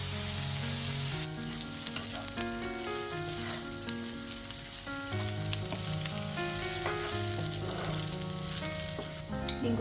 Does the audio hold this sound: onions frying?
yes